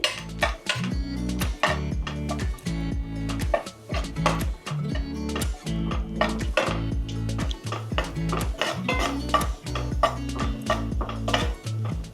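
Raisins fried in a pan for rava kesari, with a steady run of metallic scraping and clinking from the utensil against the pan, repeating in short strokes close up with no talk.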